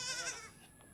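A short, faint goat bleat, a wavering nasal cry that fades quickly.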